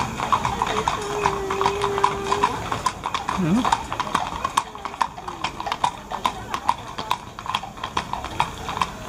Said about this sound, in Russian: белые лошадки.